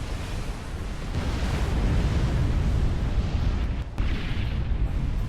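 Bombs explode in Supreme Commander: Forged Alliance as a dense, rumbling roar of booms that rolls on continuously and loudly, with a sharp crack just before the end.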